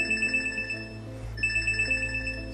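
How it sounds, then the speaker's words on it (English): Notification alert from a brain-implant computer used by a patient with ALS, a steady repeating electronic beep pattern that pauses briefly and resumes over a low background hum. "So that just sent out a health notification."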